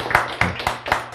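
A few people in an audience at a church health talk clap in a sparse, loose rhythm, about five distinct claps close by.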